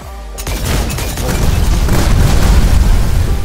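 A loud, booming shotgun blast from the Snowbreak Containment Zone video game erupts after a brief quiet moment and rolls into a dense, sustained roar of gunfire and explosions.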